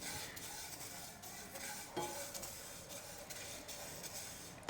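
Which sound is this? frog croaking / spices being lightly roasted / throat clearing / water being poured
spices being lightly roasted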